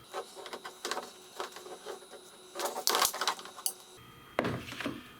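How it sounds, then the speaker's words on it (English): Cutters snip off plastic connectors on a trolling motor, a series of close, sharp clicks and crunchy snaps with small handling rattles between them, including one louder crack near the end. "cutting off this these connectors on the trolling motor"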